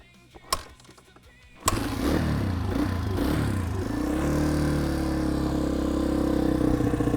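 A Honda CRF150 dirt bike with its choke fully on clatters through a start attempt, then fires and settles into a steady, loud, close idle.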